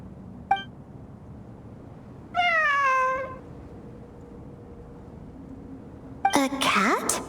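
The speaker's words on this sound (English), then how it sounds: "It really is a cat" A cat in Genshin Impact meows twice amid quiet game ambience: one drawn-out, clear meow in the middle, then a shorter, rising, slightly strained meow near the end, both close and fairly loud.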